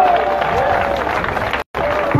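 An audience applauds and cheers for a singer after her first performance on a big stage, a dense, close wash of clapping that cuts out abruptly for a moment before resuming.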